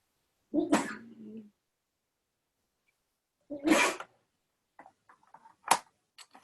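Two sharp, nearby sneeze-like bursts separated by silence, then a few faint clicks and a brief crackle.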